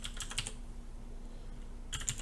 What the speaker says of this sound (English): So I'm just going to type in here time